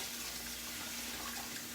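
Tap water runs steadily into a stockpot holding a turkey carcass and vegetables for stock, a constant close hiss of filling water with no talk.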